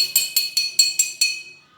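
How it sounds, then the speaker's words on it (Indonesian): Glass bottles filled with different levels of water struck one after another, six bright clinking tones stepping in pitch at an even rhythm, close and clear with ringing decay. "ternyata botol ini mengeluarkan suara yang berbeda-beda, mulai dari suara paling tinggi"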